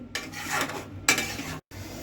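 Paneer stirred through gravy in a pan, two close scraping and rubbing strokes of a utensil against the pan with a soft sizzle underneath and brief pauses.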